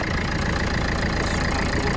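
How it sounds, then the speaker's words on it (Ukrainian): A Renault car engine idles with a steady, low rumble, continuously at moderate volume, with a broad even drone and no clear changes in pace. "двигун працює чудово"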